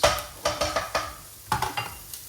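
Tomatoes going into a pan while Turkish dough-free wrap pizza is cooked, a series of clattering, scraping stirs with brief sizzling bursts, close and moderately loud, in uneven groups.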